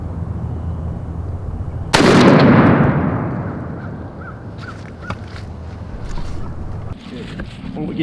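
A Benelli Super Black Eagle shotgun fires a Winchester Longbeard XR number 5 turkey load outdoors: one loud, sharp blast that rolls off into a long fading echo, with faint clicks and movement afterward.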